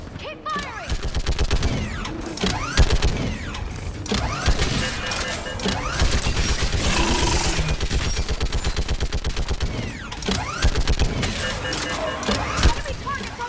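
Heavy gunfire in a Mass Effect 3 battle for Thessia, dense bursts and rapid shots rolling nearly continuously and loud, with soldiers shouting orders over the firefight.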